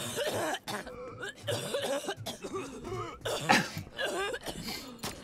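Repeated coughing from an ill player during an online tactical game session, close to the microphone, with a few rough throat-clearing bursts mixed in.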